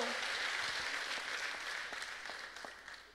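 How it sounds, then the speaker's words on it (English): Church congregation clapping together at a testimony service, a dense wash of hand claps that stays fairly steady and slowly fades across a few seconds. "Clap for Jesus."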